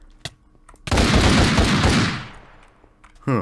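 A gun in the Minecraft video game fires a loud, close, sustained rapid burst lasting about a second, which then fades, with a few isolated sharp shots before and after it.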